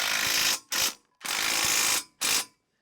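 An impact wrench tightens a bolt on a snow plow mounted on a Can-Am Defender, with four close, loud rattling bursts of differing length and brief silences between them.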